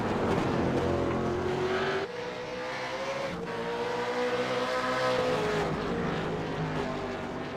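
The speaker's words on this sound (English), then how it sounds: "Cars starting to stream into the pits now." Supercars in the iRacing simulator streaming into the pit lane, a steady engine drone with shifting pitch as cars pass close by, including a distinct gear change and sustained whine.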